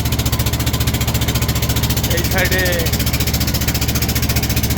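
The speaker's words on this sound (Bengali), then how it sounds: "আমি এখন আছি জাফলংয়ে, ট্রলারে করে ঘুরতেছি" A trawler boat engine on the river at Jaflong chugs in a fast, even throbbing rhythm close by, with someone speaking briefly over it midway.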